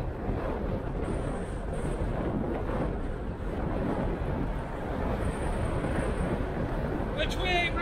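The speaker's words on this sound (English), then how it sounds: "Hear that wind" Wind rushes over a DJI Osmo Action camera mounted on bicycle handlebars while cycling in Cambridge, a constant, loud, broadband buffeting roar with faint higher chirps from the bike.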